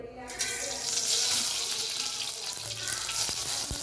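Mustard seeds dropped into hot oil for rasam tempering: a sudden loud sizzle that holds as a dense, steady hiss, with a few small pops near the end.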